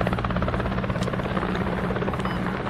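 A helicopter in the Squad military video game thrums steadily and loudly with a constant rotor buzz throughout, with no talk over it.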